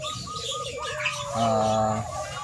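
A zebra dove gives a warbling coo that swells into a steadier, louder phrase near the middle, close by, with some faint talking in the background.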